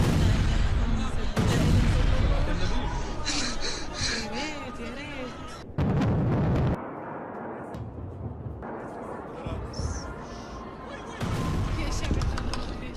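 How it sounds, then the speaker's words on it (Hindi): Booms and blasts from Iranian missile strikes on Israeli cities come in several loud bursts over rumbling noise, with a voice talking between them. "इजराइल के शहरों में ईरानी मिसाइलों की बौछार"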